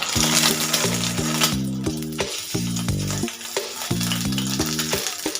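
An egg omelette fries in oil with a steady, hissing sizzle and scattered spatters of oil, partly masked by louder rhythmic music playing over it throughout.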